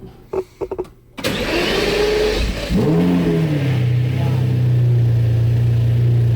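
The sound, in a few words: Lamborghini Murcielago engine starting and revving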